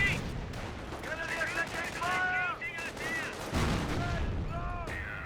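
MG42 machine gun bursts in Company of Heroes, a World War II strategy game, rattle in rapid volleys amid other gunfire and battle noise, with a commentator talking over the action.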